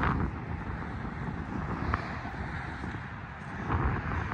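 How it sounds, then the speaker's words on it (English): Steady wind rushes and buffets across the microphone, a low continuous roar with a few gusty swells and no talking. "Sure is windy today."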